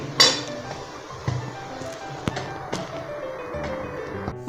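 Metal steamer pot lid lifted off an idli steamer, giving a sharp clink at the start followed by a few lighter metallic taps and rattles of pans, close and fairly quiet with low background hum.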